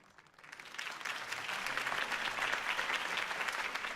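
A crowd at a Harvey Dent campaign rally in Batman: The Telltale Series breaks into applause, swelling quickly from quiet into dense, steady clapping that carries on at an even level.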